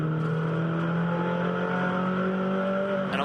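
A Mini race car in a Mini Challenge race at the Gold Coast street circuit, its engine droning loud and steady at high revs, with a shift in pitch near the end and no voices heard.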